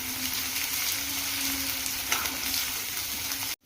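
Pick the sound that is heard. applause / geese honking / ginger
ginger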